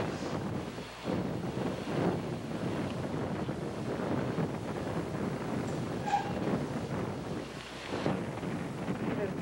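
Steady wind blows across a lakeside beach, a continuous broadband rush with gusty swells and buffeting against the microphone, fairly loud throughout with a brief faint voice.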